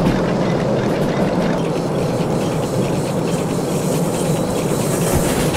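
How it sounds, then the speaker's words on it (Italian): Train wheels scrape along the rails in the Derail Valley railway game, a steady loud rolling rumble with faint clicking and high grinding hiss running continuously. "come si è sentito dalle ruote che strusciavano sulle rotaie"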